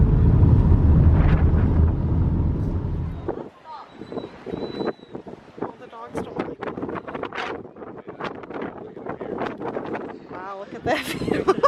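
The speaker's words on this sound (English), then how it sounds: "It is so windy up here." Strong wind roars and buffets the microphone on the foggy summit of Mount Washington for a few seconds, then drops away as a person talks over lighter gusts.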